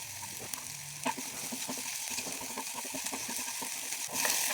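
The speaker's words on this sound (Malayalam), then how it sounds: "നേരിയതായിട്ട് അരിഞ്ഞ ഉള്ളി സവാള ചേർത്ത് കൊടുത്തിട്ട് ഇന്ന് വയറ്റുന്നുണ്ട്" Thinly sliced onions with salt sauté in a pan for a curry, making a soft, steady sizzle with faint crackles and an occasional stirring scrape, heard close and alone.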